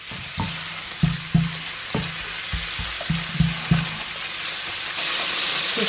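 Smoked bacon frying in melted butter in a pan for cabbage, a steady loud sizzle broken by repeated thumps and scrapes of stirring, with no talking.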